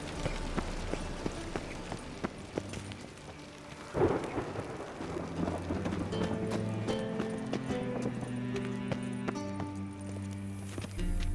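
Steady rain hiss with rumbling thunder in The Witcher 3 video game, a sharp crack partway through, and rhythmic hoof-like clopping over a low musical drone.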